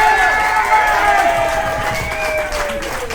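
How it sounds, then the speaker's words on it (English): A wrestling crowd rises in a standing ovation at an ACW event, a dense roar of cheering and applause with whistling tones, loud and sustained before fading slightly toward the end. "Standing O from the crowd."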